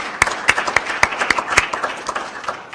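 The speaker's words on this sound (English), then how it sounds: "We'll give her a round of applause" Scattered hand claps from a small audience at an annual meeting, a handful of sharp, uneven claps close by, loud and with no voices over them.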